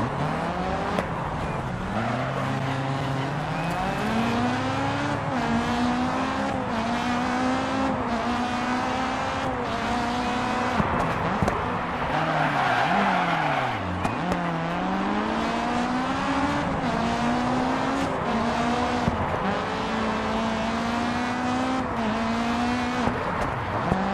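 An RX Super 1600s rallycross car in DiRT 4 brakes into a corner, its engine note dropping and then rising again in long revving sweeps, with a brief tyre scrub as it turns in, loud and close throughout.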